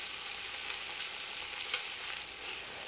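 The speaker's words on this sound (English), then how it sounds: "You don't want the onions or the garlic to burn in the same time. You want the meat to caramelize." Meat with onions and garlic frying in a pan for an Italian ragu: a steady, dense sizzle close by, with faint stirring scrapes and no voices.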